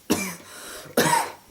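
A person coughs twice, two sharp, close bursts separated by a short quiet pause.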